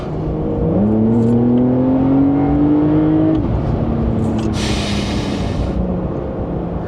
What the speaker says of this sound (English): listen to the down blip as well